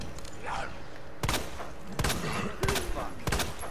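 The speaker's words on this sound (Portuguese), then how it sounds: "Gastei até um tiro a mais." Gunshots ring out in the survival horror game Resident Evil 2 Remake, four sharp loud shots spaced roughly a second apart over a dense background of game ambience.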